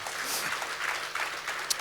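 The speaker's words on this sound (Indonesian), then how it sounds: "Berikan tepuk tangan kita untuk Tuhan kita." Congregational applause at an Indonesian church worship service, a steady dense wash of clapping across the whole moment, moderately loud with a brief sharper clap near the end.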